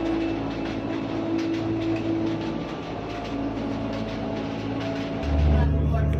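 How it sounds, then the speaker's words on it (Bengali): A passenger train from Dhaka to Tangail crosses a bridge, heard from inside the carriage as a loud continuous rumble and rattle with a sustained tonal hum and a heavier surge near the end. "ওই ব্রিজটা পার হচ্ছি। আমরা ট্রেনে আছি।"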